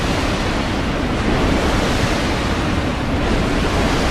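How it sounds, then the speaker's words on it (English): A water cannon in the video game Dark Souls 2 produces a loud, continuous rushing splash, broadband and steady like heavy surf or blasting spray, with no voices. "or the water cannon."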